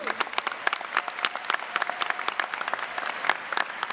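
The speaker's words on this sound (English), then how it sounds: "may we have one more round of applause for our Superintendent, Teresa Weatherall-Neal," Applause from a graduation audience in Grand Rapids, with distinct individual claps standing out sharply within a moderate round of clapping.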